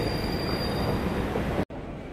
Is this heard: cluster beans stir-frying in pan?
no